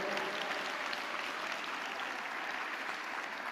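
A Sunday church congregation claps together, a dense, even wash of applause held steady for a few seconds, somewhat distant and without clear speech.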